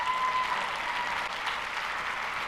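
Audience at a real estate conference session bursts into steady, dense clapping, continuous and fairly even throughout the short stretch.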